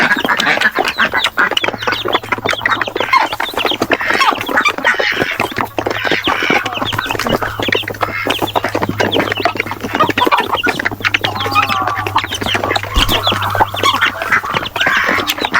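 Peking ducks on a small farm quacking and squawking continuously, loud and close, a dense overlapping chorus with other farm birds and a low background hum, no talking.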